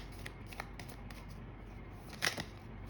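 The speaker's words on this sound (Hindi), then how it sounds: "Cards are flying." Tarot cards being shuffled by hand: soft, faint riffling and flicking flutters in quick irregular bursts, with one brief louder snap of cards near the end, no voices.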